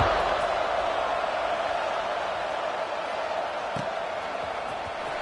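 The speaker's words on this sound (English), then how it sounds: "this crowd is buzzing after that last score" Broad steady crowd roar in a college football video game, CFB26, after a score, a continuous wash of stadium noise, fairly loud and even throughout with a couple of faint thuds.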